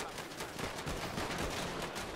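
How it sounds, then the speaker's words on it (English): Rapid gunfire in a GTA 5 roleplay shootout, dense bursts of automatic shots crackling at a distance, fairly faint and continuous. "Damn, that is kind of a lot of shooting."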